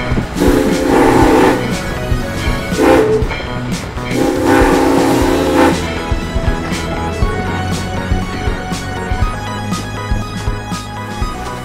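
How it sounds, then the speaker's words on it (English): A steam train rumbles nearby with loud whistle blasts early on, followed by steady mechanical chugging and hissing. "This is a steam train."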